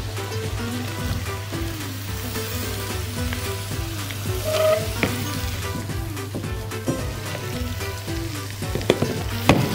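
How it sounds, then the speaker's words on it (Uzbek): Mushrooms stir-fried in a pan, a continuous close sizzle with repeated spatula scrapes and clicks over a low steady hum, no talk. "Birgalikda aralashtirib qovuramiz"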